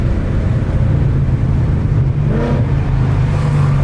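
A modified car's engine drones loud and close, holding a deep steady rumble that lifts slightly toward the end as it accelerates in second gear.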